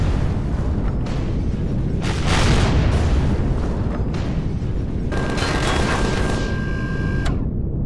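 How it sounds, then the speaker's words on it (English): Enemy gunfire striking defensive towers in the space survival game Empyrion, a dense continuous barrage of booming impacts and crackling blasts, loud and sustained throughout, with a high electronic tone near the end. "They're shooting at the towers"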